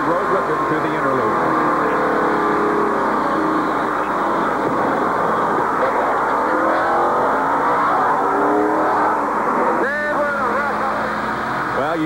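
Onboard NASCAR Winston Cup race car at Watkins Glen in 1993, its engine droning loud and steady throughout with shifting revs and a brief climbing whine near the end; a voice talks faintly over it.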